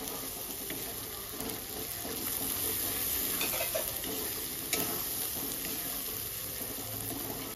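Chopped tomatoes sizzle steadily in a hot pan while a spoon stirs them, producing a close, continuous frying hiss with scraping and clinking through the whole stretch.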